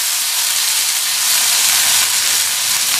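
A chopped large tomato sautéing in a hot kadai makes a loud, steady sizzling hiss with no pauses or speech.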